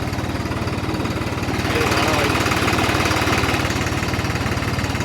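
A new John Deere 3630 Special Edition tractor engine runs nearby with a steady, rapid diesel chug that grows slightly louder partway through.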